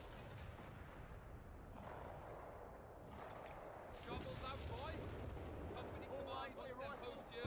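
Heavy bombardment pounding an anti-tank bunker in Company of Heroes 3, with a dense rumble of artillery fire and blasts that swell louder in the second half, layered with battle noise and voices underneath.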